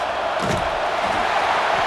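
Stadium crowd at a football game between the Illinois Yellow Jackets and the Winnipeg Canadian Bucks, a steady loud roar of many voices filling the air without a break.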